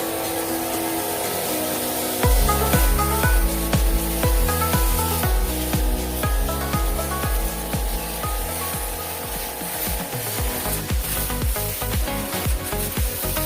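Water spray cleaning the cooling coil of an air conditioner during professional servicing, a steady hiss with rhythmic pulsing bursts that start after a quieter opening and continue close up, no speech.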